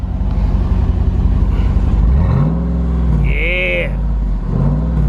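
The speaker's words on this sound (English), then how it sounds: "Let y'all hear that exhaust." The 392 V8 HEMI exhaust on a 2021 Jeep Wrangler Rubicon rumbles up close, then swells into a loud rev whose pitch climbs and falls back, with a person talking briefly over it.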